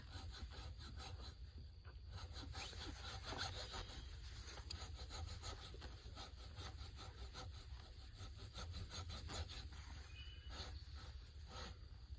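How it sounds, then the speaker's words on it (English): A tiny handsaw cuts slots into a log for a bushcraft log cabin, fast rhythmic back-and-forth rasping strokes repeating steadily throughout, close but fairly quiet, no voices. "cutting a bunch of little slots with this tiny handsaw"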